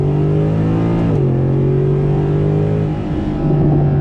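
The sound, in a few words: Mercedes-Benz SLS AMG 6.3 liter V8 engine revving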